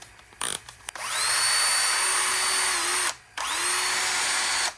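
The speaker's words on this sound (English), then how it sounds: "I simply chuck the valve stem into a cordless drill with the rubber end facing out" A cordless drill spins a rubber tire valve stem against double-sided tape on a car, a steady high whine starting, running about two seconds, pausing briefly and spinning up again, close and alone.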